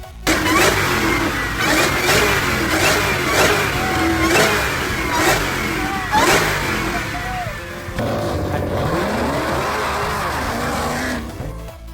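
A supercharged 2021 Dodge Durango Hellcat SUV engine roars close by, revving hard and surging as it accelerates, a loud continuous growl with rising and falling pitch.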